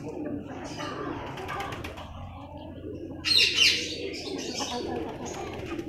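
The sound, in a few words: pigeons cooing and chirping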